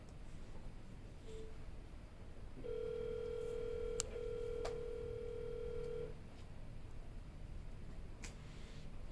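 A phone dialer places the next call, giving a steady tone of about three and a half seconds with a few clicks and short beeps around it, clear and close against a quiet hiss.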